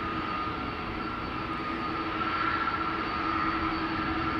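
Airliner jet engines roar steadily at Amsterdam Schiphol Airport during departures, a continuous loud broadband rumble with a faint tonal whine that swells slightly toward the end, with no voices.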